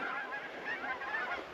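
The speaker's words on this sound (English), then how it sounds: "Bunch more geese." Several geese honk repeatedly in the Nebraska Sandhills ahead of an incoming cold front, a dense overlapping chorus of calls at moderate distance with no talking.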